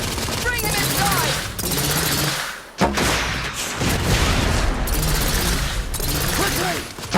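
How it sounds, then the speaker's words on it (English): Sustained bursts of suppressive gunfire from The Order: 1886, loud and dense with rapid overlapping shots, a brief lull midway, then renewed firing amid booming impacts and shouted voices. "Lay down suppressive fire!"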